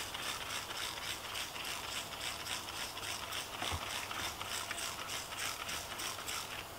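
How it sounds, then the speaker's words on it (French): Black soap mixed with water is sprayed onto the fabric seats of a Fiat 500, making a steady close hiss with faint rhythmic pulses throughout. "Je vais pulvériser mon savon noir avec de l'eau dans un premier temps."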